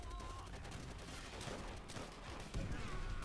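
A machine gun nest fires in the Call of Duty: World at War video game, a dense, rapid stream of shots with other gunfire mixed in, quiet and continuous throughout.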